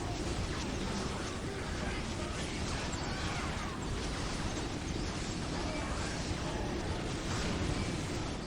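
Units trade fire in the Dark Crusade strategy game during a Space Marine stronghold battle, a dense, unbroken wash of gunfire and blasts that stays steady and loud throughout.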